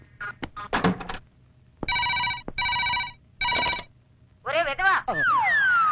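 A telephone bell rings in a movie scene, with several bright ringing bursts separated by pauses, after a few knocks and talk at the start and a tonal chime near the end.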